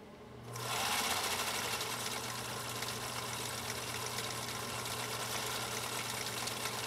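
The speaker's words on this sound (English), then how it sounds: "here goes our next stitch off, which again is stitch number three on cam B" A Husqvarna Viking Type 21 sewing machine stitching on cam B stitch three at a gentle pedal, starting after a short pause into a steady, even mechanical whir and rapid needle chatter, close and continuous.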